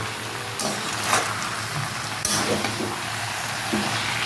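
Spinach cooked with fish head sizzles steadily in a pan while being stirred, with scraping and clattering spoon strokes over the continuous frying hiss, close and fairly loud.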